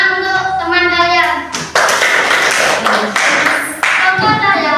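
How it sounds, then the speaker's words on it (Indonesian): Schoolchildren in a classroom clapping together for a classmate after a teacher's sentence, a bright burst of hand claps in two waves, with voices heard before it. "Tepuk tangan untuk teman kalian."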